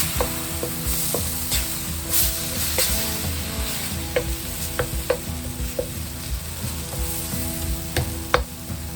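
Cumin seeds frying in hot oil, a dense close sizzle with frequent small crackles and pops over a steady hiss, alongside occasional light stirring, with no voices.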